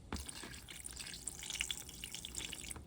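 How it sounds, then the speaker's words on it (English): Faint, steady liquid trickle and splash as pickle juice is poured, with a brief clunk at the start, low and close with no talk. "so here go our pickle juice"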